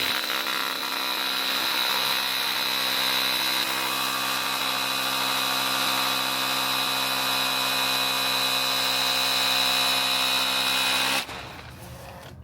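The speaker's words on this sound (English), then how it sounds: "I just hold the sander and use the edge of the pad to hit that out" A sander runs steadily against the outer lip of a 24.5-inch Alcoa aluminum wheel, a loud continuous whine with a bright high-pitched edge that holds for about eleven seconds before cutting off abruptly.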